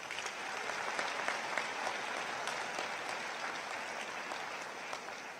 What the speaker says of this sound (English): Please give our faculty a round of applause.